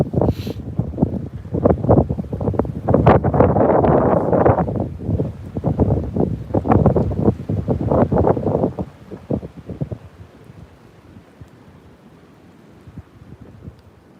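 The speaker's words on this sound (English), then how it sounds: "I was waiting for the wind to stop" Outdoors, strong wind buffets the microphone in loud, uneven gusts that rumble and roar for about ten seconds, then drop to a lighter, patchier blowing.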